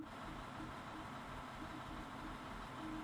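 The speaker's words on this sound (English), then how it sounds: "It just sounds like it's idling." A diesel train engine idles in the Train Sim World 6 video game, giving a steady low rumble that stays even and unbroken throughout.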